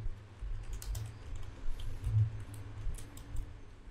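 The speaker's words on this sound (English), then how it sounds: "So let's type, what is the Wi-Fi password?" Quiet, steady typing on a computer keyboard as a short question is entered, a run of soft close key clicks over a low hum.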